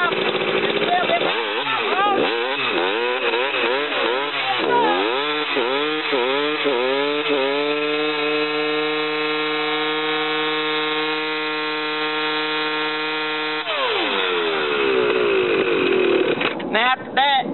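A dirt bike engine revs hard through a burnout, the pitch repeatedly sweeping up and down in rapid blips before holding a steady high whine, then wobbling and surging again, loud and close throughout.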